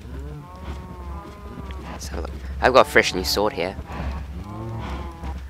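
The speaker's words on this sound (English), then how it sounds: "so I've just been breeding cows down here" Cows mooing in a Minecraft breeding pen, several low moos close by, mixed in with someone talking and some clattering game noises.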